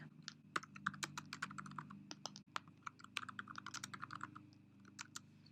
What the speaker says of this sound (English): Type in a message.